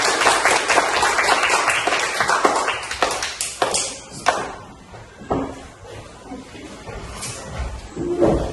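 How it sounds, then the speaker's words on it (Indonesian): A classroom of students applauds a student group after its presentation, loud uneven clapping at first that thins into scattered claps, taps and shuffling as it dies away. "Kasih aplaus untuk kelompok 1"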